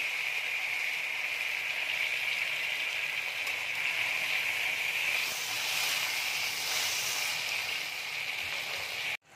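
Tomato pieces sizzling in hot oil with dried red chillies, a strong continuous hiss that swells midway and then cuts off abruptly at the end.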